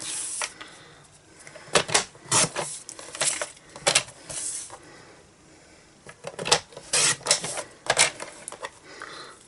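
A paper trimmer slices card freehand, making a series of short, sharp clicking and scraping strokes in irregular bursts, close and fairly loud with quiet gaps between them.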